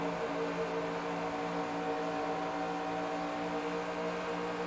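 A race car engine at Michigan drones steadily with a tonal hum while easing off throttle, heard from a distance with no sharp rises or revs.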